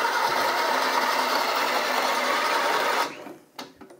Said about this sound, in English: Put my Kenyan in, and I'm just gonna grind.